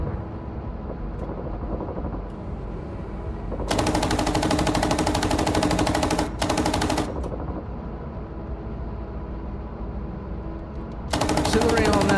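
Bursts of tank coaxial machine-gun fire in a video game, two loud sustained volleys of rapid automatic shots over a steady engine rumble, with a third burst starting at the end.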